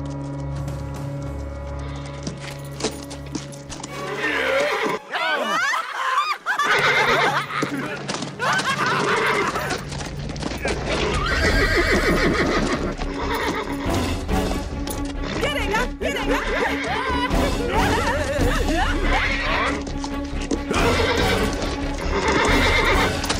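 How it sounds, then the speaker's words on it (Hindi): A horse in a Hindi-dubbed action film neighs and whinnies repeatedly and loudly, with clip-clopping hooves, under a busy movie soundtrack. A short silent gap occurs early on, and voices speak over parts of it. "अरे ये घोड़ा पागल है क्या?"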